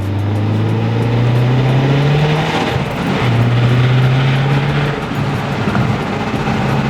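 A stock MazdaSpeed 3 engine accelerates hard through the gears, its steady drone climbing in pitch, then dropping briefly at a shift before climbing again, loud and close.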